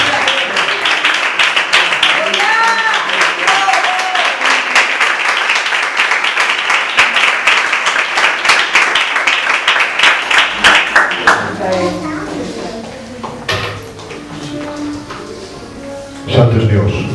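A church congregation breaks into loud, sustained applause with dense rhythmic clapping for about eleven seconds, then it thins as voices and scattered claps continue, with a brief renewed burst near the end.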